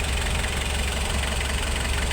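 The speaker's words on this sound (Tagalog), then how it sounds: "umaandar na ang makina, wala na siyang pressure sa radiator hose" A Suzuki ELF truck engine idles after a top overhaul, giving a steady, even mechanical hum with a faint knocking rattle close by, continuous and without voices.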